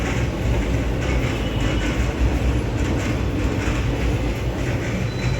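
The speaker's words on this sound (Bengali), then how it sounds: "মেট্রোতে কাজ চলছে বলে একটু আওয়াজ হচ্ছে" A continuous heavy rumble of metro rail work running near a home, dense and loud with a steady low roar and faint rattling throughout.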